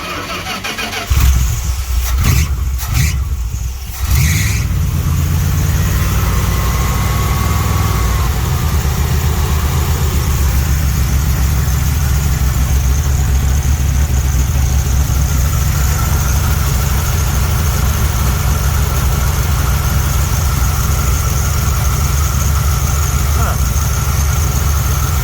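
A 1970s Dodge street machine van engine cranks with a few sputtering turns, catches after about four seconds, then settles into a loud, steady, close idle that runs on alone.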